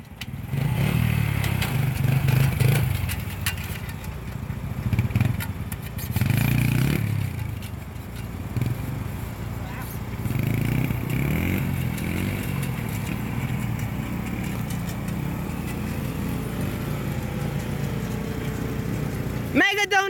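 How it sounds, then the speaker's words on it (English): A dirt bike or four-wheeler engine revs hard during a wheelie, a loud steady drone rising and falling in waves under excited shouting voices throughout. "Wheelie, wheelie, wheelie!"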